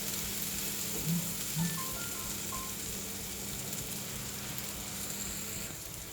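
Bacon stir-fried in a pan with chili and salt for a Thai drinking snack, a faint, steady sizzle with a couple of soft knocks early on.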